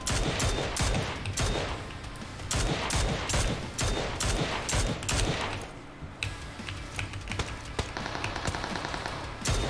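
Rapid gunfire bursts crackle in PUBG Mobile as a player shoots at a vehicle's tyres, loud close shots in quick repeated volleys, then a quieter stretch of scattered pops.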